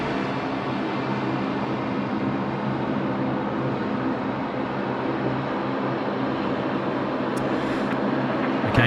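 A Qantas jet lands at Sydney Airport at night in heavy rain, arriving from the nation's capital; a constant, even roar of engine and rain noise holds steady from start to finish.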